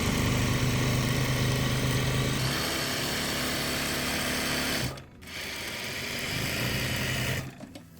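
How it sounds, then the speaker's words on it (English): Sewing machine stitching down a long fabric edge, a steady loud motor whir that runs continuously, pauses briefly around the five-second mark, then resumes before stopping near the end. "we're going to stitch all down this long edge"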